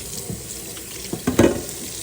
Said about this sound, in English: cold water going.